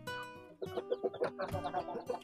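Young DOC chicks being raised for harvest give shrill, repeated peeping calls, several birds overlapping in quick bursts, close and fairly quiet with brief pauses between.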